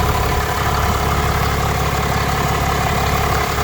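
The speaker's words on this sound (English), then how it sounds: "It's actually a really quiet engine." A 2022 Ram 2500 Tradesman with the Cummins 6.7-litre turbo diesel idles steadily, a close, even, low rumble with no voices over it.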